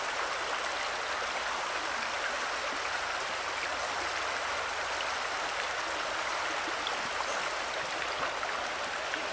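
A trout stream runs steadily, its broad, even rush of flowing water carrying on close and loud without pause and with no voices.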